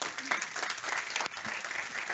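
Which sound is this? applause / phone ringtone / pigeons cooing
applause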